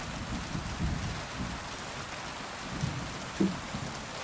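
Rain falls steadily in the medieval world of Kingdom Come: Deliverance II, a quiet, even patter with a few low rumbles of thunder, and no voices.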